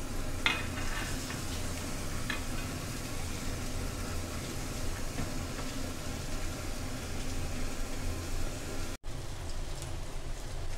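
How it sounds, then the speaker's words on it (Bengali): Chopped onion and garlic fry in hot oil with a steady, rain-like sizzle that fills the whole stretch at an even level, with no voices over it. "তেল গরম হয়ে গেছে, এখন আমি দিয়ে দিব পেঁয়াজ কুচি।"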